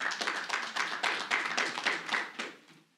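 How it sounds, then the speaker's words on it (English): A seated audience at a conference session on fair prices for healthy diets gives a brief round of applause for a panel, moderately loud and fading out near the end. "So a quick round of applause, please, for our panel."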